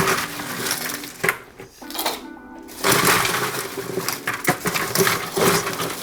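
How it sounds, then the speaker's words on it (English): Ice cubes dropping into a rum flip cocktail, a cluster of clattering, clinking impacts with a short pause before more cubes rattle in close up. "Add some ice"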